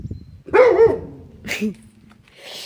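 A dog barks in two or three short, close yelps with quiet gaps between them.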